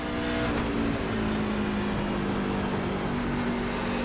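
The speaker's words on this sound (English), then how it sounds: "this truck is driving way better" A NASCAR truck engine in the iRacing sim at Darlington Raceway holds a loud, steady high-rev drone for several seconds, the tone shifting slightly under load, with no voices.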